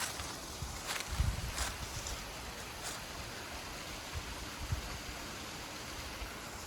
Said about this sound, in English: Look at this waterfall.